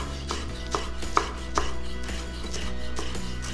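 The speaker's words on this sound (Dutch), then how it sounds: "En dit kan je gewoon een beetje zo opfrommelen. En dan is het eigenlijk het makkelijkst fijn te snijden." Curly parsley is chopped finely with a knife on a board for a shakshuka, a series of crisp, fairly close cuts at an irregular rhythm over a steady low kitchen hum.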